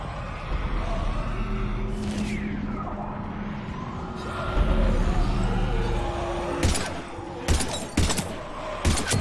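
Gunfire in the Mass Effect 3 video game, a few sharp cracking shots and bursts toward the end, preceded by rumbling combat noise and impacts.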